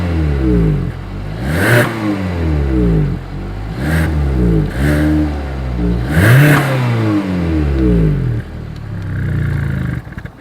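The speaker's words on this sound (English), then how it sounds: "So as always, here is that exhaust clip." Engine of a 2020 Hyundai Tucson with dual chrome exhaust tips revs up and falls back about five times in a row, loud and close at the rear, each rise ending in a burst of exhaust noise.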